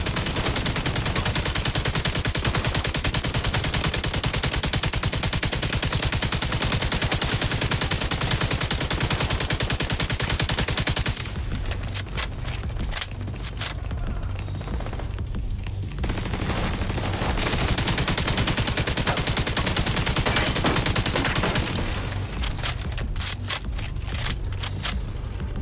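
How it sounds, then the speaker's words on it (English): Dense, sustained automatic gunfire rages through a firefight in the shooter game The Division 2 on Roosevelt Island, continuous loud bursts with brief lulls, no talking. "There'll be no hiding the gunfire."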